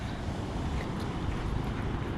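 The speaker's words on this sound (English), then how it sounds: "You can hear the waves crashing." Ocean waves on a Florida beach at night at Peters Point Park, a steady broad roaring wash of surf mixed with wind noise, continuous and fairly loud with no talk.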